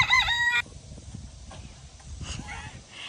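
The tail of a rooster's crow at the start, followed by faint, scattered chicken noises outdoors.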